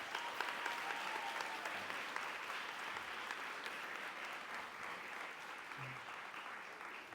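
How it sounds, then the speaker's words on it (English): A graduating class of 2025 at a youth council ceremony applauds itself, a continuous even wash of many hands clapping, quiet and distant-sounding, with no pauses across the whole stretch. "Clap it up for yourself."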